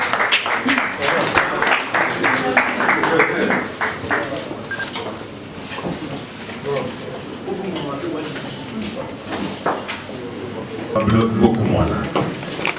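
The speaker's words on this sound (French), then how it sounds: "Sous vos applaudissements." An audience claps at a political gathering in Congo where a politician accepts Félix Tshisekedi as president, the applause running under a continuous announcer's voice with clattering crowd noise throughout.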